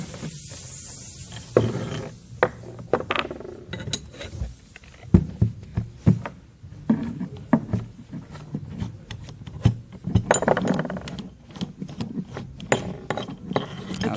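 Body bolts come out of a Series FS525 valve under a ratchet, heard as sparse, close metallic clicks and clinks in short irregular bursts, with quiet pauses between them.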